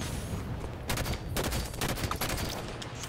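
A modded battle rifle fires in Halo 5: Guardians, bursts of gunfire cracking in quick clusters over steady game background noise, loud and close throughout.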